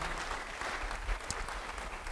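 A church congregation claps steadily together during a sermon, a short burst of dense, even applause heard close and filling the room.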